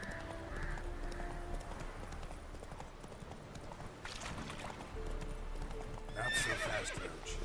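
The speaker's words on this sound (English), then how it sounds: "Not so fast, Roach" Horse hooves clip-clop at a steady pace in The Witcher 3 video game, with a soft whinny near the end over a faint ambient background.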